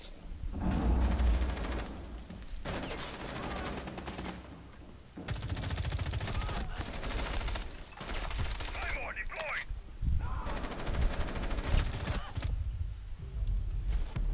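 Sustained automatic gunfire in Rainbow Six Siege, a team deathmatch hostage round on the Bartlett University map, with dense bursts rattling on and off over about fourteen seconds and brief pauses between volleys.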